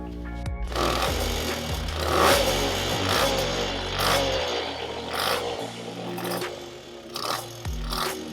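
A Puch Maxi LS moped engine with its choke on, newly rebuilt, starting and running rough and uneven, with loud, sputtering close-up engine noise that rises and falls and does not settle into a steady idle.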